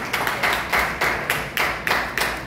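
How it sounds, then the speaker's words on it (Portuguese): An audience claps in rhythmic unison at a church couples' seminar. The sharp claps are evenly spaced, about two per second, and come close and loud with no talk. "Os que estão só agora, dê um aplauso, por favor."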